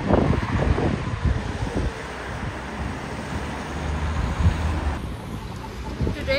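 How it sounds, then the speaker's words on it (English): Steady wind roars and buffets against the microphone, a constant low rumble with no voices, loud throughout. "Today is pretty windy weather."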